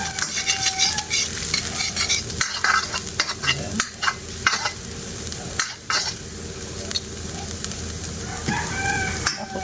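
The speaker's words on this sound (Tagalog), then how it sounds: "Unahin natin ilagay guys yung luya para bumango yung luya." Ginger fries in oil in a pan with a steady sizzle and repeated sharp scraping stirs, while a rooster crows faintly in the background.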